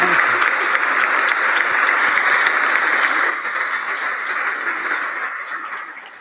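Sustained applause from the chamber audience at the State of the Union for Justice Breyer, loud and dense, easing somewhat in the final seconds.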